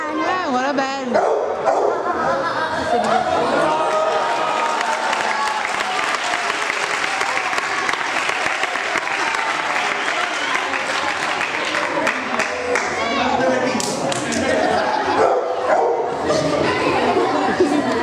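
A dog barks and yips repeatedly in excited bursts, mixed with applause and people talking, loud and busy throughout.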